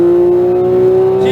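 Porsche 911 GT3 991.2 on a race track at Exotics Racing, Las Vegas: a loud, steady high engine drone holding one pitch and rising slightly during a short burst of acceleration.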